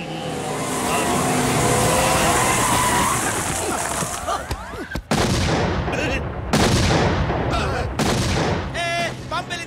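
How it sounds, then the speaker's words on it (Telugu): A loud, dense roar of a bomb blast and rumbling debris in a film climax scene, followed by sharp cracking bursts and crashes, with no voices. "బాంబు పేలింది"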